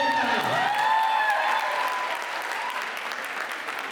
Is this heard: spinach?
no